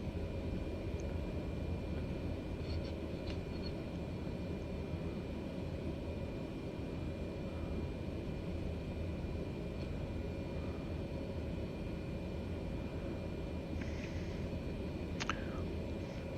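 A Pilatus PC-12 turboprop in a flight simulator game gives a steady, broadband engine drone that holds level throughout, with a few faint higher tones rising briefly near the end.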